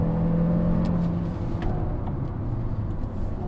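A Fownix FX Premium car's engine drones steadily from inside the cabin as it accelerates through a turn, a continuous low hum and whir with no talking.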